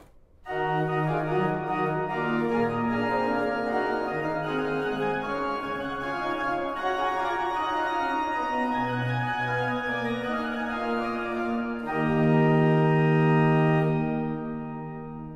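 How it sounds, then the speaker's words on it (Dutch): Upper-manual pipes of the pipe organ in the Martinikerk, Groningen, play a slow, sustained passage of bright, airy chords, held notes shifting for about fifteen seconds before swelling fuller and fading out. "dan hoor je ook de pijpen die helemaal boven in het orgel staan."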